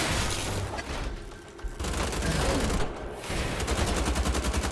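Sustained gunfire with explosive impacts in the shooter game Wolfenstein: The Old Blood, a loud continuous barrage of shots with brief lulls, no talking.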